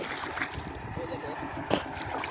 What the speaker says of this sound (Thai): แล้วเราก็สูบน้ำใส่